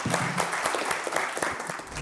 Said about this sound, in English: Let's do it. With a round of applause.